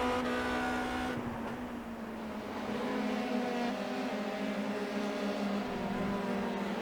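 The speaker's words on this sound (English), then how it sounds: "Just love those old Formula 3 cars here at Brands Hatch" Old Formula 3 race cars lapping the Brands Hatch circuit, a steady engine drone that holds a constant pitch for several seconds at moderate distance, with no voices.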